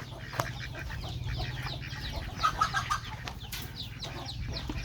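Farmyard chickens cluck in short, scattered bursts at close to middle distance, with a quick run of several clucks midway over a constant low rumble.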